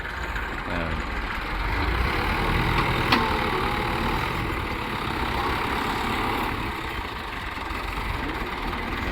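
A tractor engine chugs steadily with a low rumbling drone, holding even throughout with a faint click partway.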